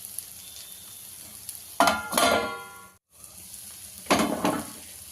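Goat brain fry cooking on a stove over medium heat gives a steady low sizzle, with two louder bursts of frying and stirring as the pan is disturbed, close by with no talking.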